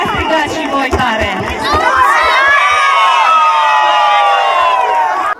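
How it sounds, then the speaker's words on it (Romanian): School children shout and cheer together at an end-of-year ceremony marking the start of the holidays, a loud sustained crowd roar with high-pitched whoops, preceded by rhythmic stamping or clapping. "Ia strigați și voi tare!"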